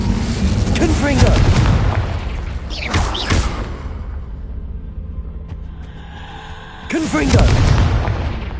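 Booming blast from the Confringo spell in Hogwarts Legacy, a heavy burst near the start and another near the end, with shorter whooshing hits between and spoken voices over the action.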